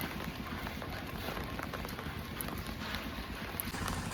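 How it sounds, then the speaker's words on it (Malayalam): Heavy rain falls outdoors as a steady, dense hiss with wind noise over the microphone, heard continuously throughout. "നല്ല മഴയാണ് കേട്ടോ."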